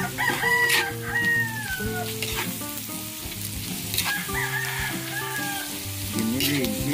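Ground pork sizzles and frying in a pan with garlic and onion, a steady crackle with stirring scrapes, while a rooster crows repeatedly nearby.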